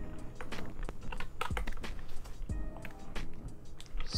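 Quick, uneven clatter of computer keyboard keys tapped close by, a few isolated strokes and short bursts over about four seconds, quiet and without talk.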